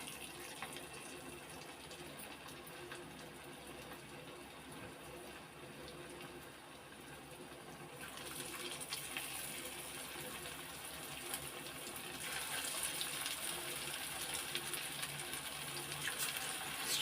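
Chicken pieces for pakoda frying in hot oil on a lowered flame: a steady, dense sizzle that swells louder partway through and again near the end, with no talking.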